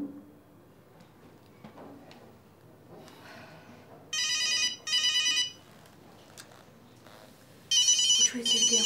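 A telephone ringtone sounds indoors in a drama scene, coming in two loud, bright electronic bursts after a quiet stretch of faint movement and soft speech.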